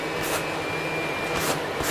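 Two short hisses of spray paint burst from a rattle can close by while a Spartan helmet is being painted, each about a quarter second long, over a steady background hum.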